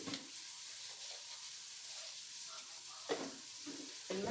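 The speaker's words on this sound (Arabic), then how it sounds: "هنزل عليهم بصلتين كبار مقطعه" Two large chopped onions frying in a pot with a pinch of salt, a soft steady sizzle and hiss with occasional stirring scrapes, close and fairly quiet.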